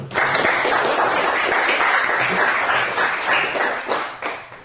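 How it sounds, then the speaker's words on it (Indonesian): Students in a classroom give a round of applause, a brisk, fairly loud patter of many hands clapping close by that holds steady and then thins out and fades toward the end. "Tepuk tangan untuk kita semua."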